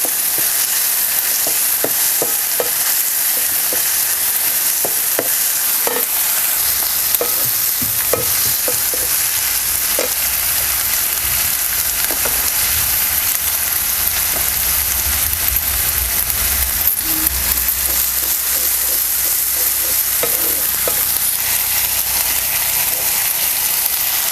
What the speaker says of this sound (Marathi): टमॅटो सुद्धा आपल्याला पूर्ण मौसूस होऊसपर्यंत आपल्याला हे परतून घ्यायचं आहे